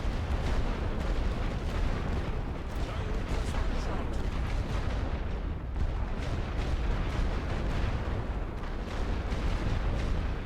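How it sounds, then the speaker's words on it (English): Suppression barrage of artillery in the WWI strategy game The Great War: Western Front, a dense continuous roar of rumbling blasts filling the whole stretch, with a voice faintly present beneath. "let's have a suppression barrage on one"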